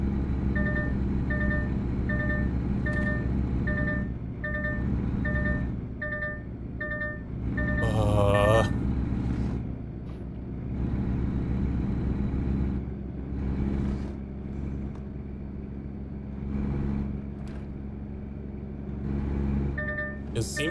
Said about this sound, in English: I think it's supposed to be the alarm sound for, like, your vehicle is too close to a collision